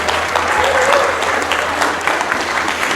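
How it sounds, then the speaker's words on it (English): A live discussion audience applauds the moderator with dense, continuous clapping that holds at an even level for a few seconds. "let's give a wonderful round of applause to our moderator, Pedro Garcia, tonight."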